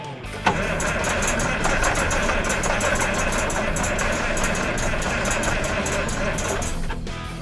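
Perkins six-cylinder diesel in a Massey 860 combine turns over and catches, then runs with a loud, steady, rough clatter that fills the whole stretch, close by, until it drops slightly at the end.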